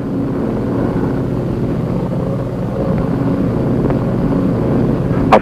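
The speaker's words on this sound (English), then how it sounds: "A float plane is handy for getting close." Float plane engine droning steadily in flight over river country lined with mangrove swamps, a loud continuous propeller hum that holds alone with no voices.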